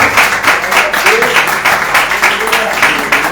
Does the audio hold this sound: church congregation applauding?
yes